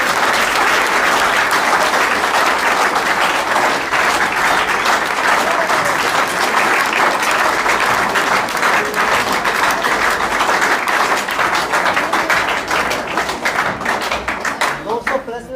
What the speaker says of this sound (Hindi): भाई प्रकाश जी के लिए जोरदार ताली हो जाए भाई